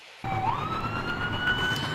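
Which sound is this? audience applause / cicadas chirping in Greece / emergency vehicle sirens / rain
emergency vehicle sirens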